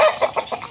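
Heat-stressed backyard chickens cluck close by in a rapid series of about five short pulsing clucks, each one brief and clear, with no voices heard.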